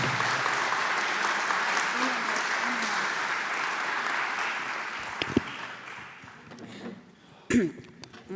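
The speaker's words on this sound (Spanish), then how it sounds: "la recibimos con un afectuoso aplauso" An audience applauds to welcome a speaker at the closing session of a national legal conference. The steady, full applause fills the first five seconds, then thins and fades out, with a few scattered claps and a brief voice near the end.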